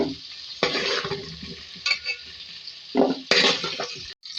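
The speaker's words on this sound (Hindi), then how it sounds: "इसमें हम डालेंगे सेम को फ्राई करेंगे" Broad beans are dropped into a hot pan and stirred, giving loud bursts of sizzling and scraping separated by brief quieter gaps and a few light clinks of utensils.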